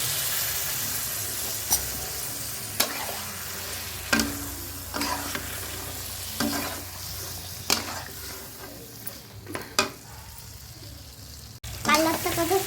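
Duck meat fries with spices in a pan under a steady low sizzle, punctuated by sharp scrapes and knocks of a spoon stirring at irregular intervals, with occasional faint talk.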